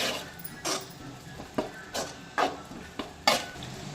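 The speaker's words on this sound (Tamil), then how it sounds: "இப்போ இதை 2 நிமிஷத்துக்கு நல்லா கிளறி விட்டுக்கலாம்." A spoon stirs a ground paste in gingelly oil in a pan before chicken is added for a Kerala-style chicken gravy, making a series of short scraping strokes at a steady rhythm over a soft background sizzle.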